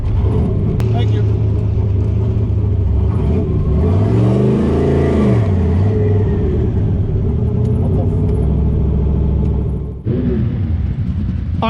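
A TKX 600 drag car roars at the strip at night, its engine droning loudly with a rising and falling revving sweep midway, close and continuous throughout.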